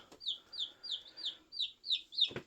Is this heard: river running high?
no